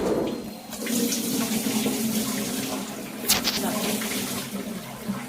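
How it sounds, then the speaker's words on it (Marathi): Bombay duck fish (bombil) rubbed and rinsed under a running kitchen tap, a steady stream of water splashing into a sink throughout, with faint handling sounds and a brief louder splash near the middle. "चांगल्या नळाखाली चोळून चांगले धुवून काढायचे"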